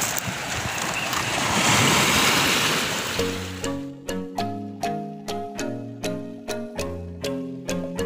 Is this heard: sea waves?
yes